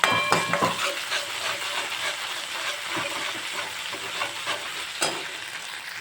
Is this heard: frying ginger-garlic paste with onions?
yes